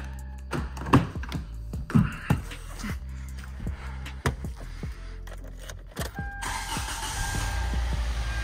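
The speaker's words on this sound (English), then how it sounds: "Car started." A 2011 Kia Soul with a 2.0L engine cranks and starts after a timing belt, water pump and tensioner replacement, with clicks and clunks first, then a brief starter whir and a steady, fairly quiet idle taking over near the end.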